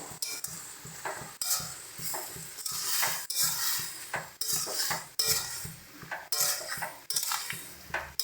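Tomato chutney with turmeric, salt and spices stirred in a metal pan, repeated spoon scrapes and clinks in a steady rhythm over a soft sizzle, close, no talk.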